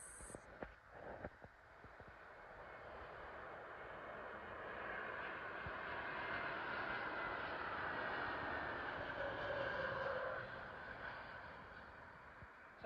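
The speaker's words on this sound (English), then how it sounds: "Coming in now is a Lufthansa Airbus A320neo from Frankfurt" A Lufthansa Airbus A320neo from Frankfurt lands at London Heathrow, a steady broad jet roar swelling through the middle and holding loud before easing slightly, with no voices.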